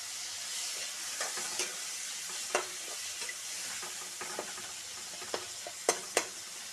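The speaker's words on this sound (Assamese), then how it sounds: "পূৰা কেৰাহীৰ চেৰচেৰনি শব্দ শুনি আছে" Drumstick pieces frying in a wok over a low gas flame give a soft, constant sizzle, broken by sharp clicks and scrapes from a spatula stirring now and then.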